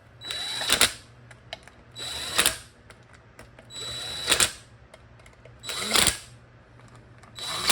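Tool bursts while tightening bolts on a Ford C4 automatic transmission during a rebuild: five short, sharp buzzing runs about every second and a half, separated by quiet gaps over a low steady hum.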